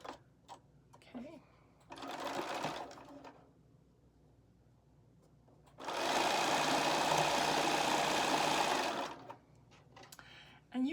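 Sewing machine stitching a charm pack quilt block from the center out to the edge: two bursts of fast, even mechanical whirring and ticking, the second longer and louder, close by with a voice talking in the gaps.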